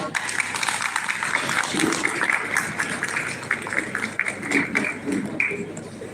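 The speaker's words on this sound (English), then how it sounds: "Can we have a round of applause?" Audience applause at an annual school award ceremony, a sustained patter of clapping from a crowd, moderately loud and even, with faint voices mixed in.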